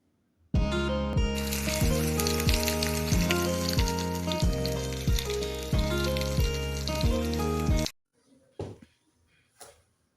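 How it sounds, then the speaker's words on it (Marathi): Mustard seeds, cumin and garlic fry in hot oil with a loud, dense sizzle and crackle that starts abruptly and runs steadily for about seven seconds. It then stops, leaving a few faint clatters. "तेल आपलं गरम झालेलं आहे मोहरी जिरे लसूण"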